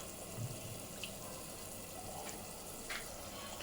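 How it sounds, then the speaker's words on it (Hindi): Water trickles steadily into a pan of gram flour (besan) batter, a soft continuous pouring wash with no talk over it. "मैं और थोड़ा सा पाव प्याली पानी डाल रही हूँ उसमें"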